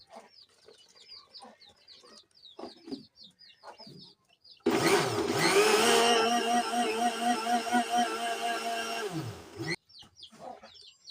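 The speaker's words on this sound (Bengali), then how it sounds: "ব্লেন্ডার করা হয়ে গেছে" A kitchen blender whirs steadily for about five seconds while processing beetroot, fruit and orange juice, loud and continuous, then cuts off abruptly; quieter background noises come before and after the motor run.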